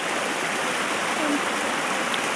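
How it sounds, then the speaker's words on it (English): A stream and big waterfall in a little birch valley in Iceland give a steady, dense rush of flowing water, close and constant with no speech. "It's got a stream. And it's got a big waterfall."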